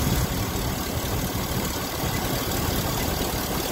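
Car engine idling with a drive belt that screeches over a dirty pulley, a steady, dense hum with a constant high whine layered on top, close and unbroken throughout.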